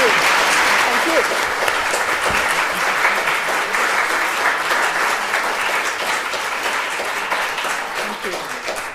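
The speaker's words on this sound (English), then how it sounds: "One more round of applause" A lecture audience at a public talk on the Dawn mission to the early solar system breaks into loud, dense, sustained applause. The applause fills the whole stretch and eases only slightly toward the end.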